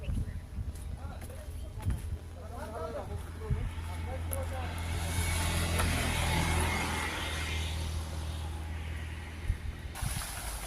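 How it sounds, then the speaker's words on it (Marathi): A car drives along a road toward a rural meditation centre, its low engine rumble and road noise steady throughout. Someone talks continuously over it. "ही गाडी चाललेलीच आहे"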